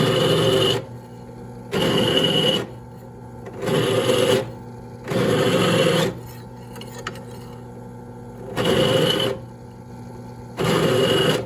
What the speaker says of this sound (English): Just put an oversized drill bit.